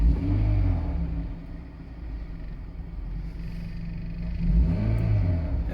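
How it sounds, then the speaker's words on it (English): A car engine rumbles close by, swelling in two revs near the start and end over a steady low idle. "If you could rev it, you'll see that they change."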